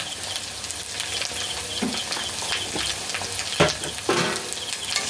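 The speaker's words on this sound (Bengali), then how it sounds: "মশলাটা কষাতেই হবে" Spice masala with chilli and turmeric powder sizzles in hot oil as it is stirred for stuffed koi fish, a continuous close frying hiss broken by occasional spatula scrapes and pops.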